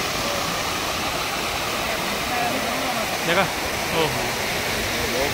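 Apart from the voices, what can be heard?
Beri Ganga waterfall roaring, Jodhpur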